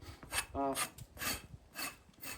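A blade scrapes hair off a scalded pig carcass in cold weather, giving a quiet, close series of rhythmic rasping strokes, each a short gritty scrape.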